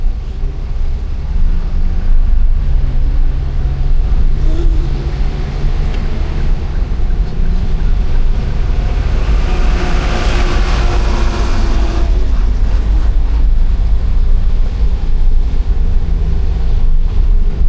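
Steady, loud wind buffeting a microphone on a road trip along the Halsema Highway from Baguio City to Atok, a constant low rumble lasting the whole stretch with no speech.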